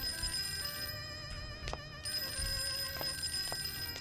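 A telephone rings in a horror video game, a sustained electronic ringtone with steady tones and a couple of sharp clicks, fairly clear over a low background hum.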